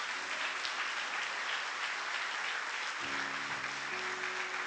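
Church congregation applauds during a worship service, a thick continuous roar of clapping filling the room, with a faint sustained organ or keyboard chord emerging underneath partway through.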